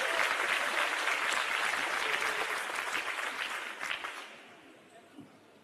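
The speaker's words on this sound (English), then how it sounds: "Can we give both gentlemen a big round of applause?" Applause from an audience at the launch of the Chris Hani to Cape Town passenger rail line: dense, sustained clapping that is loud at first, then thins and fades out after about four seconds.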